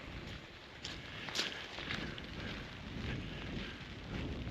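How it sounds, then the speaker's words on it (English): Steady heavy rain pours down with a constant broadband hiss, a few louder splashes and drips standing out near the microphone, no talking. "it's still fucking raining hard"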